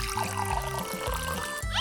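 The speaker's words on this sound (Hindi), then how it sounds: "और अब तुम्हारी पसंदीदा चाय डालते हैं।" Tea pours steadily in a continuous stream for a couple of seconds, over a low rhythmic musical background.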